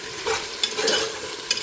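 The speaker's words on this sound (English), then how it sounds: "here I have my beef. I'm frying it up." Beef sizzles and crackles as it fries in a pot for cook-up rice, with steady frying hiss and a few brief stirring scrapes close by.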